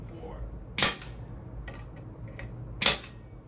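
A brad nailer drives brad nails into the wooden interior enclosure of a touch-screen photo booth, firing two sharp, close pneumatic snaps spaced about two seconds apart over quiet room noise.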